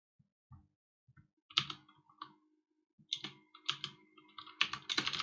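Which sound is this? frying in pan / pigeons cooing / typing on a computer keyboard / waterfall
typing on a computer keyboard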